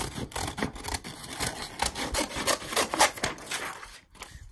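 Scissors or a blade rasp through the excess edge of a sublimation doormat in a steady run of close, rough cutting strokes, quieting briefly near the end with no one talking.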